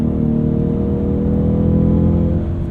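A 2020 Ford Mustang EcoBoost with the High Performance Package revs steadily under a 10-speed kickdown, a loud, continuous engine drone heard close from inside the cabin with no break.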